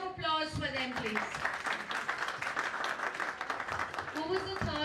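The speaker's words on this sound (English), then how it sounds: "But a big round of applause for them, please." Applause from an office event audience at an innovation and analytics gathering, a moderate run of clapping framed by voices talking at the start and end.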